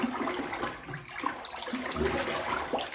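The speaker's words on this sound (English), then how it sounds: "So I'm going to mix up my glaze again." Pottery glaze is stirred in a bucket, giving a continuous close sloshing and swirling of thick liquid with small splashes and no talk.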